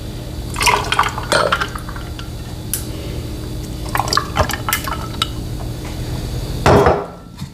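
Juice being poured into a recipe in a home kitchen, with bursts of liquid splashing and dripping, some light knocks of glass or wood, and a final louder pour before it cuts off.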